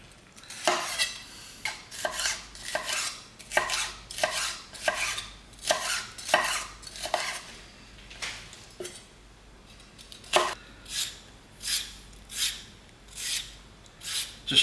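A knife trims carrots on a chopping board at home, with a steady run of about twenty close, crisp cuts and scrapes in an uneven rhythm and no talk.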